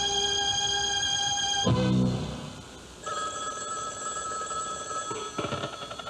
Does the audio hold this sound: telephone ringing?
yes